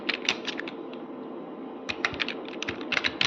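Computer keyboard keys tapped in quick bursts while entering headings in an Excel spreadsheet, with a pause midway before the typing resumes, close and clear over a low background hum.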